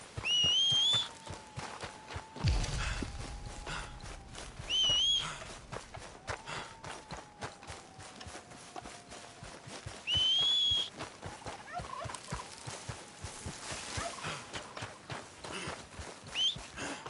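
Rapid, regular hoofbeats clatter throughout, mixed with occasional high warbling calls and a brief burst of noise, from Red Dead Redemption 2 game audio.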